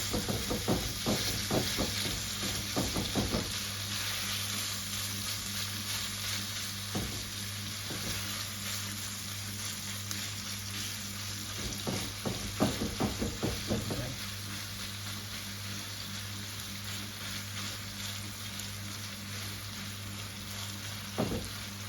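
Minced keema sizzles steadily in a hot pan while a spoon breaks it up, giving repeated scraping and tapping strokes over a constant frying hiss, close and fairly loud with no talking.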